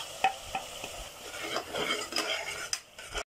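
Masala with tomatoes fries in a pan for mutton biryani, with brisk spoon stirring, metallic clinks and scrapes over a crackling sizzle, close and uneven in rhythm.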